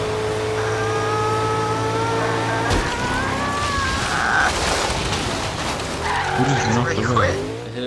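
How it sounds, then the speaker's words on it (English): Car crash in the racing game Forza Horizon 3, with tire skids and engine noise building into a loud impact around the middle, followed by squealing and scraping; voices talk over it throughout. "Really, I hit a BMW."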